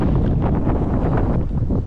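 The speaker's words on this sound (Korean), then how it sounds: "바람이 세게 불고 있습니다." Strong wind buffets the microphone on an open Camino de Santiago trail toward Belorado, a loud continuous broadband roar with gusty surges and no speech.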